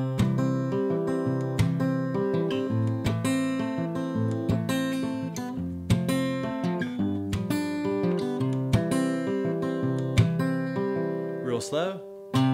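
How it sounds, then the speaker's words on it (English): Acoustic guitar played in a Clawhammer Travis hybrid fingerpicking pattern, a folk style, with steady plucked notes and ringing chords in a continuous rolling rhythm, up close and alone, ending with a brief sliding squeak. "This one we call the Clawhammer Travis Hybrid."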